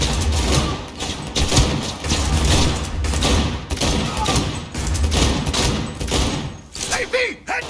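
Rapid gunfire in the video game Cyberpunk 2077, dense bursts of shots and thuds running almost without pause, loud and close, with game dialogue mixed in.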